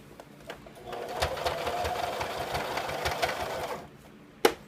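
A sewing machine runs steadily for a few seconds, stitching elastic onto a pocket cloth diaper, close and alone, ending with a sharp click as it stops.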